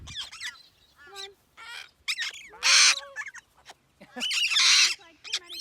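Pet cockatoos and parrots call and screech in harsh, loud bursts, several birds overlapping in a busy household, with brief bits of people talking between the calls.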